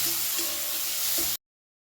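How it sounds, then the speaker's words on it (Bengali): Onion, garlic and tomato sizzle with salt in a pan, a steady close hiss broken by a few soft stirring scrapes before it cuts off abruptly. "ভালো করে একটু নাড়াচাড়া করে পেঁয়াজ রসুন ও টমেটোটা একটু নরম করে নেব"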